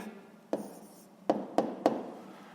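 A hand writing an answer in a sixth-grade maths exercise: a pen or pencil scratches softly on paper, broken by four sharp taps or strokes, close and quiet.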